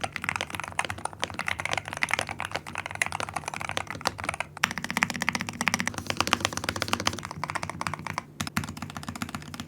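Typing on a BOYI 66Pro mechanical keyboard fitted with strawberry magnetic Hall effect switches, a dense, fast, steady stream of muted, close-up keystroke clicks with no talking.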